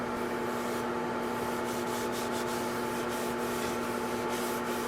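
Beeswax and orange oil wood polish rubbed by hand onto a turned fir bowl, a steady close-up rubbing hiss with faint rhythmic strokes, no talking.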